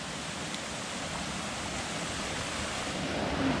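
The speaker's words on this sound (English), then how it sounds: "Got some little cascades." Small cascades on a mountain trail stream in Pinkham Notch give a steady, close rush of splashing water, an even broadband wash with no voices over it.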